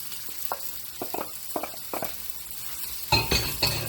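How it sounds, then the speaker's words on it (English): Cabbage and carrot stir-frying in a pan: soft sizzling under a series of light scraping, stirring strokes and metallic clinks, close and fairly quiet, with a few louder stirs near the end. "So it's gonna be like a stir fry."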